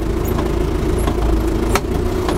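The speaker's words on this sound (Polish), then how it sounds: "Aby ruszyć tym ciągniczkiem należy wcisnąć sprzęgiełko, zazwyczaj ruszam z drugiego biegu i jedziemy." John Deere 2850 tractor engine running at a low steady rumble as it moves off in second gear, fairly close and continuous, with a few faint clicks over it.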